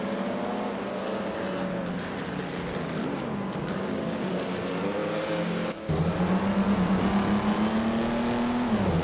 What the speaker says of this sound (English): I'm having a lot of fun watching these AI cars race in the simulator